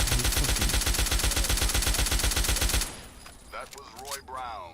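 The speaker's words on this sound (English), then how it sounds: "Oh, that's a tri-beam laser rifle?" A tri-beam laser rifle in a post-apocalyptic wasteland video game firing a fast, steady stream of loud pulsing shots for about three seconds, then stopping as quieter game sounds and voices follow.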